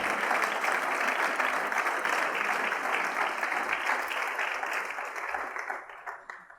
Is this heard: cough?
no